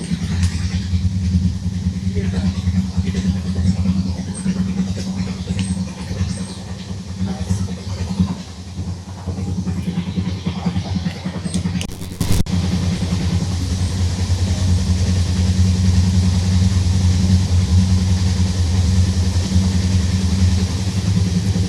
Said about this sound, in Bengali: আমি নয়েজ ক্যান্সেলেশন অফ করেছি, ট্রেনের আওয়াজটা শুনবো খালি